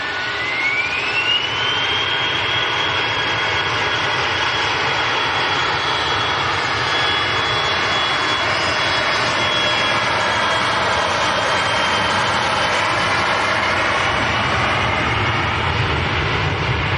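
A ten-year-old Embraer jet at Manchester Airport gives a steady, loud engine roar that holds for the whole stretch, with a rising whine at the start settling into a sustained tone, and no voices over it.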